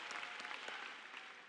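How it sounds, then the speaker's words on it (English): A crowd of high school graduates at a commencement ceremony claps in a steady, dense round of applause that fills the whole moment at a fairly quiet level. "Y'all give yourselves a round of applause."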